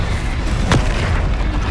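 A Confringo fire spell goes off in the Hogwarts Legacy video game. One sharp blast lands with a booming, deep rumble and then fades quickly into the steady game background. No one speaks.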